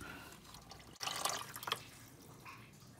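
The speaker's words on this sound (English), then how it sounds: "let the rest of that coolant drain out into my pail that's right here" Coolant drains from the oil cooler of a 2018 Dodge Charger into a pail, a soft, faint trickle and splash that rises briefly in a small gush before settling back to a quiet steady pour.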